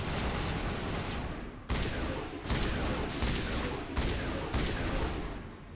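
Shotgun fire in the Mass Effect video game, several loud, sharp blasts spaced about a second apart, each followed by a decaying rumble, with no talking.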